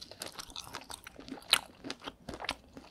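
Cabbage in spicy mala tteokbokki is chewed with crisp, crunchy bites, a close, quiet series of irregular crunches with one sharper snap midway and no talk.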